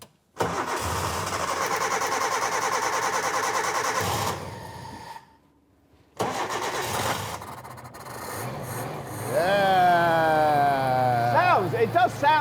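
A Suzuki SJ engine cranks and fires, runs at a rough idle, cuts out briefly after a pause, then restarts and settles into a steady idle close by, with people talking over the later part.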